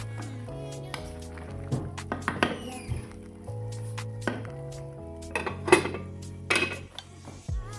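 A metal cooking pot is set down and handled on a stove for making cassava dough, with a series of clinks, knocks and scrapes of pots and utensils, close and intermittent.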